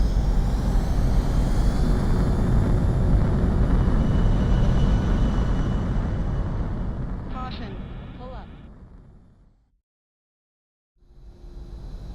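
A jet aircraft landing in the combat flight game Ace Combat 7: a loud, close, steady engine roar with broadband rumble that fades away to silence, then briefly returns.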